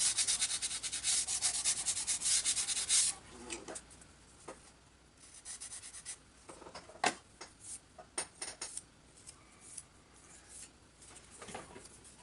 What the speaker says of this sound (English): just got a little sanding block. Sand off those little nib things that hold the part in place.